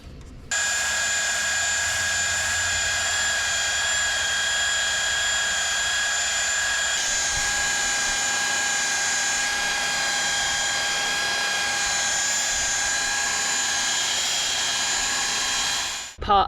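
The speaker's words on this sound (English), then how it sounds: "So I'm using my buffer. I've got 180 grit on" A power buffer fitted with 180-grit polishes a boat's funnel, holding a loud, steady high-pitched whine that runs continuously for about fifteen seconds before cutting off.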